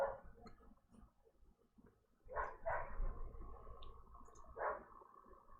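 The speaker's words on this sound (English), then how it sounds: "I don't know if you can hear my dog losing her mind." A pet dog barks in bursts somewhere in the home, a few loud, sharp yelps spaced a couple of seconds apart over quiet background noise.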